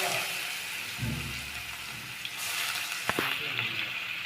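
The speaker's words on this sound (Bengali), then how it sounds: "তো এটা এখন হালকা একটু ভেজে নেওয়া হোক" Chopped onion frying with black cumin in hot oil for a fish curry, a steady close sizzle and hiss with a few clatters of a utensil partway through.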